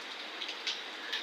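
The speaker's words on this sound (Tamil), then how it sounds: "அடிச்சு வெளுத்து வாங்குதுங்க மழை. சரியான மழைங்க." Heavy rain pours steadily outdoors in the morning, a dense continuous hiss with a few slightly louder splashing swells, no voices.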